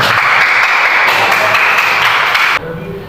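Classroom applause for a pupil's correct answer during an Islamic religious education lesson: a dense, steady wash of clapping for about two and a half seconds that then cuts off abruptly, leaving a quieter room.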